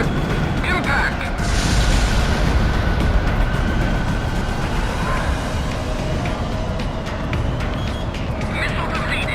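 A deep, rumbling roar of a missile impact explosion in the Ace Combat video game, a heavy, sustained wash of low noise that stays loud throughout, with faint tones above it.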